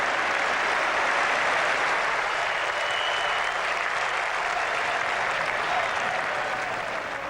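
A cricket crowd at an England Ashes Test match in 1981 applauds continuously, a dense, distant wash of clapping that holds steady throughout.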